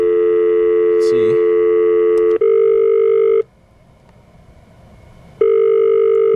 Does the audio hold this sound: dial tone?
yes